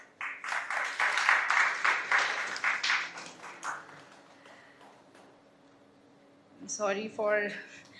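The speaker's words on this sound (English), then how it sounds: "Please, let's welcome all of our panelists with a round of applause" An audience claps to welcome panelists at a startup pitch event, a burst of many hands lasting a few seconds before tapering off into quiet, followed by a voice speaking.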